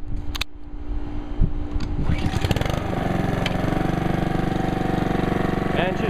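A 2015 Honda HRR216 lawn mower engine catches after a few pulls and settles into a steady, loud, even idle close by.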